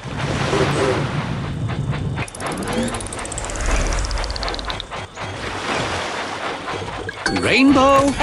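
Toy cartoon train engine rolling along the tracks, with rhythmic clickety-clack and rumbling wheel sounds building, a rising whistle-like sweep, and bright chiming tones and voices joining near the end.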